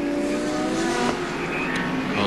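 Touring cars at the 1989 Australian Touring Car Championship round at Winton Raceway roar loudly and continuously, engines droning at high revs as the pack races past, with no talk heard.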